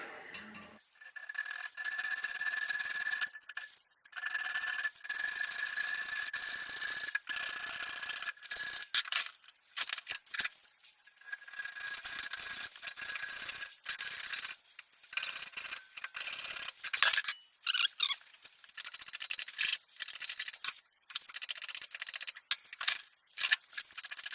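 Repeated back-and-forth strokes of a hacksaw cutting a metal axle, a bright rasping rhythm broken by short pauses, close and fairly loud.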